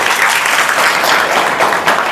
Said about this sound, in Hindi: एक बार जोरदार ताली बजाइए अपने लिए।